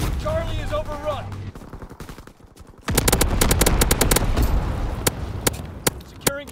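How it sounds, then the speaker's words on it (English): Rapid anti-aircraft gunfire salvo in a war video game, a loud run of sharp repeated bursts with irregular spacing, following a quieter stretch with synthetic voice-like tones at the start. "Anti-aircraft salvo commenced."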